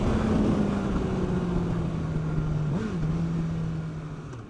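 A Honda CBR1000RR Fireblade sport bike under hard acceleration, loud engine drone holding a steady pitch with a brief blip near the end, then slowly fading.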